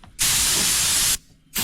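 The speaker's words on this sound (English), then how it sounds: "Got my air compressor." An air compressor nozzle blows sawdust off a work surface in two sharp hissing blasts, the first about a second long and the second starting just before the end, loud and close.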